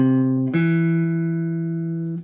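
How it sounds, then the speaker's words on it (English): A guitar sounds do and then mi, a major third apart, with the first note giving way to a second plucked note that sustains cleanly and alone before being damped. "And then do to mi, which sounds like this."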